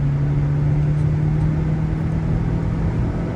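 A Renault Duster accelerates on the Buddh International Circuit racetrack, a steady droning engine hum heard from inside the cabin, loud and constant with no talk.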